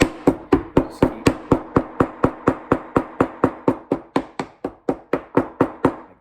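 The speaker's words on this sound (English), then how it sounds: "If you break it by hammering on it, maybe you're hitting too hard" Hammer striking a leather bareback riding glove, about two dozen sharp, evenly spaced blows in a steady rhythm, close and loud, with no talk over them.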